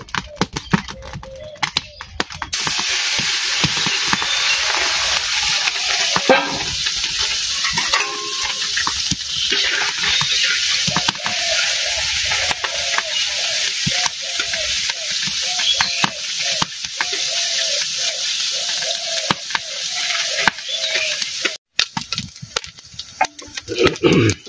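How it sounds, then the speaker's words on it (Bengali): Small puti fish fry in a pan in a village kitchen, a loud, constant close-up sizzle with frequent crackling pops and occasional scraping, sustained throughout with a voice murmuring faintly underneath. "মাছ ভাজি হয়ে গেছে।"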